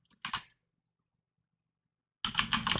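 A quick pair of computer keyboard keystrokes, then silence and a denser run of close typing clicks.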